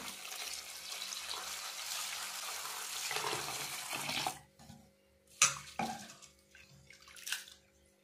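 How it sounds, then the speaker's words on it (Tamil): Flattened rice (aval) being rinsed in a vessel of water, a steady splashing, sloshing wash for about four seconds that then gives way to a few separate near swishes and clinks of the container. "நல்லா அலசி எடுத்துக்கலாம்"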